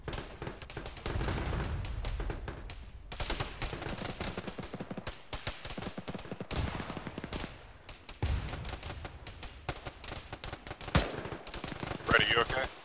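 Rapid bursts of automatic rifle and machine-gun fire in an ArmA-style military game, mixed near and distant shots cracking in uneven volleys, with voices talking over the gunfire at times.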